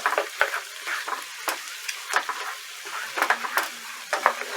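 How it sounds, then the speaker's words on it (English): Frog legs fry in butter with garlic and parsley, a close crackling sizzle broken by frequent sharp spatters and stirring clinks in an uneven rhythm. "I want to drop my legs in here. Alright, get these things coated on up"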